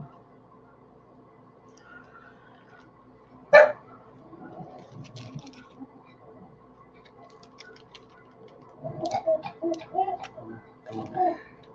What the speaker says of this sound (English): just because you hear the other doggies barking